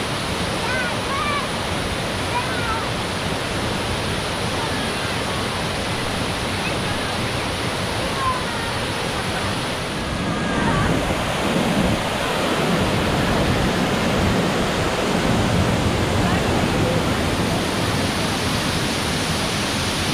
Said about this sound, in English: Do you like the waterfall?